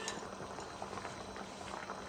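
Paella left to simmer in its pan over a low flame on a gas stove gives off a soft, steady bubbling with small crackles, faint and continuous throughout.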